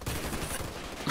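Gunfire in the Warface shooter game, a dense, loud burst of rapid overlapping shots and bangs filling the whole moment, with no pause between reports.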